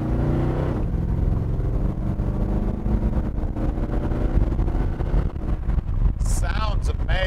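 1933 Ford three-window coupe with an LS V8 engine driving along with a loud, continuous engine roar and wind noise, while someone talks over it near the end.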